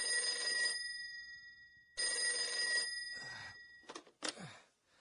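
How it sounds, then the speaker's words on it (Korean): An old-fashioned telephone bell rings in two long bursts at night, clear and fairly close, followed by brief rustling and handling sounds. "새벽 2시에 잠이 든 의전 비서관 조상호 중령에게 전화가 걸려왔다."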